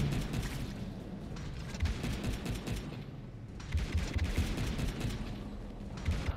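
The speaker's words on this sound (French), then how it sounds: "Là maintenant, on va mettre notre grenade vers le bas." Grenade blasts in the video game Wall World, heard as a dense, continuous run of loud booming bursts and crackling impacts that rise in several waves, with no voices.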